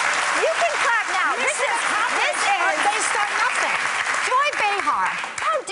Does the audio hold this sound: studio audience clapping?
yes